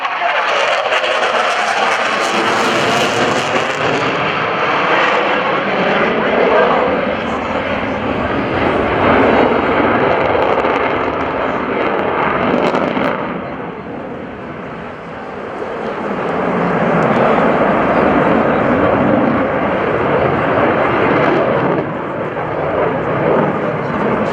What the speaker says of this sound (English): Execute 2 high-performance turns, demonstrating the Super Hornet